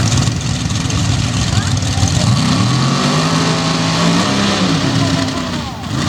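Ford Hemi pro stock drag race cars launching side by side at a 2021 outlaw pro stock event, a loud sustained engine roar with rising pitch, under an announcer's voice.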